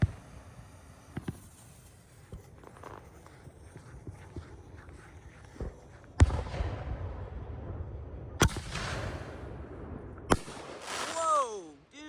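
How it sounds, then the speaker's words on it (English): Fire Factory Stinger canister firework shells going off outdoors, several sharp distant bangs and crackling bursts spread over a dozen seconds, with a rising whistle near the end and people's voices faintly in the background. "Last Stinger shell by Fire Factory."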